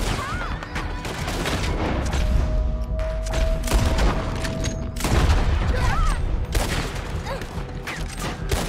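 Rifle gunfire crackles in a Red Dead Redemption 2 shootout against O'Driscoll attackers, with loud repeated shots and booms over constant battle noise and occasional voices.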